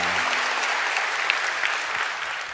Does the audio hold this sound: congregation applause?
yes